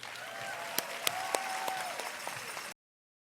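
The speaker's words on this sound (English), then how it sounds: "Please give them a round of applause." An indoor audience at an evening excellence celebration applauds for the two MCs just introduced, a steady wash of many hands clapping with a few sharper claps standing out, then cutting off abruptly.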